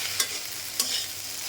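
Chopped onion is stirred into okra frying in a pan, with a steady sizzle of hot oil and two sharp spatula scrapes against the pan, close and without talk.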